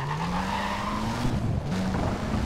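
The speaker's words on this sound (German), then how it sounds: "Ich drehe jetzt mal einfach aufs Gas." A Nissan in the racing game NFS World revs hard and pulls away, its engine rising steadily in pitch under a continuous loud tire squeal, with no talking.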